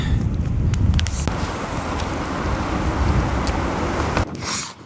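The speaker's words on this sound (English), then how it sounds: "It's really windy" Strong wind roars across a cold mountain summit near Triple Divide Pass in Glacier, buffeting the microphone in loud, steady gusts with rumbling low noise throughout and a brief drop near the end.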